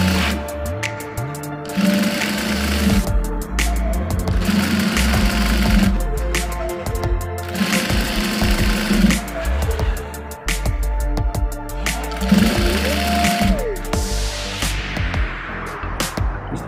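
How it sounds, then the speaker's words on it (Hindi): A sewing machine stitching a pant grip in short repeated bursts of rapid mechanical clatter, separated by brief pauses as the fabric is adjusted, close and clear with no talk. "इस तरीके से सिलाई करेंगे इसकी"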